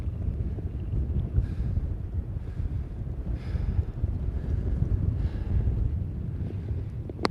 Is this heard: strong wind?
yes